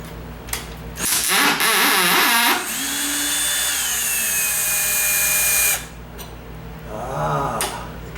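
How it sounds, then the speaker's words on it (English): Bursts of a power drill whirring while driving a longer screw into a sagging door, one longer steady run in the middle, with short pauses and handling noise between. "Let me get my drill out."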